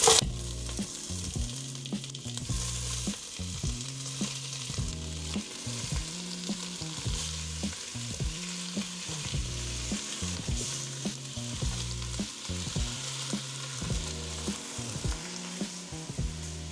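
Fresh chicken sizzling in a frying pan with ginger and onion for chicken tinola, a steady loud frying hiss with rhythmic stirring scrapes repeating throughout, no voices.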